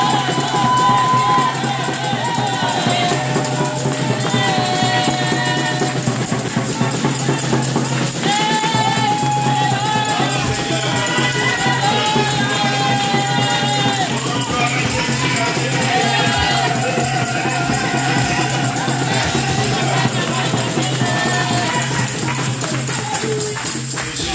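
A church congregation cheers and shouts acclamations to Jesus during a worship service, a loud, sustained crowd roar with whoops and raised voices. Music-like tones also carry through it.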